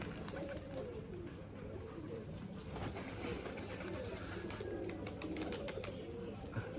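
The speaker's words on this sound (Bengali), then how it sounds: "এগুলো উড়ার কবুতর যদিও" Giribaz flying pigeons coo softly inside a loft at a pigeon farm, a faint low murmur of many birds layered over a continuous background din.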